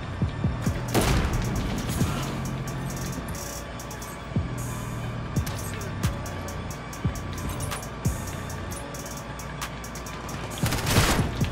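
Shotgun blasts and gunfire from a first-person shooter game in hardcore mode, sharp loud booms recurring every couple of seconds over a steady rumble of game ambience and engine-like noise, with a heavier burst near the end.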